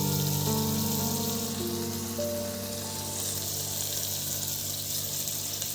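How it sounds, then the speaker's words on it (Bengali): Water runs steadily from a tap while spice bowls are washed in a kitchen sink. It makes a loud, continuous rush, joined briefly by faint tonal hums. "এই দেখুন বন্ধুরা ভালো করে ধুয়ে নিচ্ছি বাটিটা"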